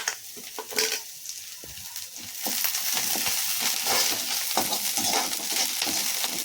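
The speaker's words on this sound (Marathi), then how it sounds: "आता हे चिरून कट केलेल्या हिरव्या मिरच्या आपण टाकत आहोत." Chopped green chillies tipped into onion and garlic frying in a small amount of oil for cabbage veg manchurian, giving a steady loud sizzle with scattered stirring scrapes and clicks throughout.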